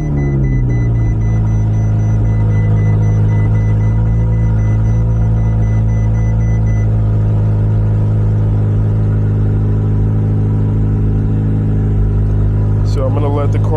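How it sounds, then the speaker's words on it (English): A Ferrari 488 Pista engine catches and settles into a deep, steady idle, loud and close, with a faint rattle near the end. "now we're going to start the car and see what we can do"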